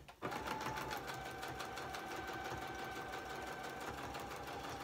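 A sewing machine stitches lace onto a journal cover, a quiet, steady motor hum with rapid regular needle beats that starts abruptly and runs on without talk.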